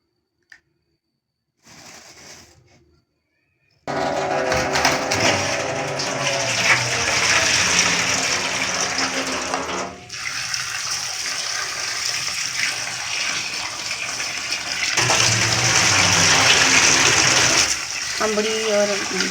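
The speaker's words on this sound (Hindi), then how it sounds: "अम्बड़ी और प्याज और हरी मिर्च, इनको अच्छी तरह से धो के अब हम इसकी बनाएंगे।" Raw mangoes, onion and green chillies are washed under a strongly running tap in a kitchen. After a few faint clinks the water gushes loudly and steadily, briefly dips, then runs on.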